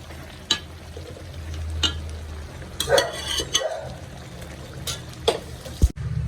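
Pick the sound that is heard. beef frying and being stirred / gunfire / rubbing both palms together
beef frying and being stirred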